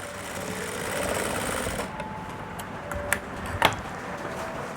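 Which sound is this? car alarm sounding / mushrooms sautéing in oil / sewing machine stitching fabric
sewing machine stitching fabric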